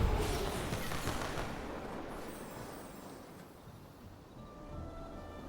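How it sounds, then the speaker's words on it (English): Fireworks go off in the video game Palia, a loud booming and crackling burst that gradually fades into a softer rumbling wash. "There you go, that was the firework display."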